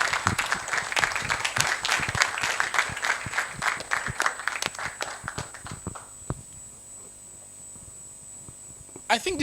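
Audience applause at a CIPS Nigeria 2025 conference session, a dense patter of clapping lasting about six seconds before thinning out, with scattered claps and a few more near the end.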